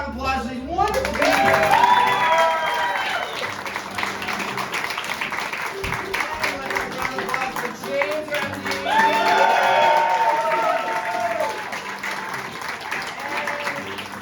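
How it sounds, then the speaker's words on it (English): Audience at a live stage show breaks into sustained applause mixed with cheering and shouts, loud and close, swelling again toward the end as a voice speaks over the crowd. "One more round of applause for these wonderful people."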